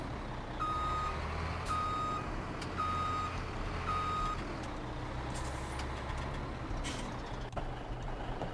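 A truck in Farming Simulator 17 idles with a steady engine drone while a reversing beeper sounds in regular repeated tones, then fades, with a brief air-brake hiss near the end.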